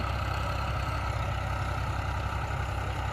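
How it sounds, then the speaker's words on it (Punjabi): A tractor engine idles at low revs, around 1000 to 1200 rpm, a steady, deep rumbling drone that holds constant throughout with no talking. "ਟਰੈਕਟਰ ਥੋੜੀ ਰੇਸ ਹੈ ਬਹੁਤ ਘੱਟ ਰੱਖੀ"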